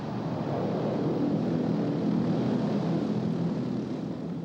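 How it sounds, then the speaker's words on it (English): Massive engines on a large hovercraft carrying passengers and vehicles drive 21-foot propellers in a steady, loud, continuous roar with a broad rumbling drone and no pauses. "Its massive engines drive the world's largest propellers, 21 feet in diameter."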